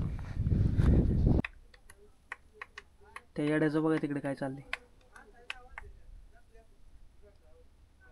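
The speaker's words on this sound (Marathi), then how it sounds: "टाळ्या वाजवते एकटेच" A lone person claps hands at a hilltop fort temple, giving sharp, isolated claps spaced unevenly and fairly distant, with someone talking briefly before and during them.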